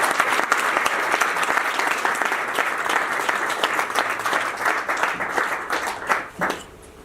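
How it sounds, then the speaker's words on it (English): Sustained audience applause fills the room at the close of a talk at a UK BIM Alliance event in Wales, dense steady clapping that thins and fades in the final second. "Round of applause."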